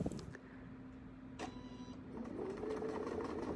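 A sewing machine runs steadily while stitching around an oval quilting template with a Westalee crosshair ruler, giving a continuous low motor hum that picks up slightly toward the end, with no talking.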